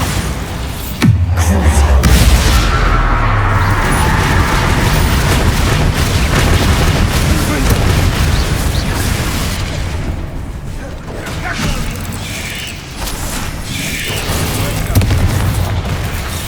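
A Bombarda explosion spell in the video game Hogwarts Legacy lands with a single loud, deep boom near the start, followed by a rumbling tail and ongoing battle clatter.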